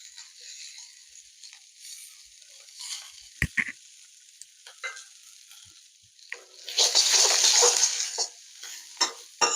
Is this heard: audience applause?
no